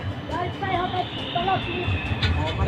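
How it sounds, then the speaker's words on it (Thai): A train rumbles past amid city noise at Darling Harbour, Australia, with a low steady roar and people talking over it. "รถไฟกลางเมืองรถไฟกลางเมือง"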